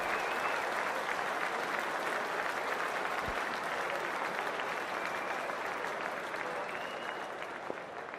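A big crowd at an India vs South Africa one-day cricket international applauds continuously, a dense, even wash of clapping and cheering that holds steady from start to finish.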